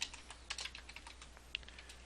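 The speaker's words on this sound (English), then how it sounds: "I'm just typing into here" Fingers type into an Excel filter box on a computer keyboard, a quick run of light, close key clicks with a few sharper taps, no talking over it.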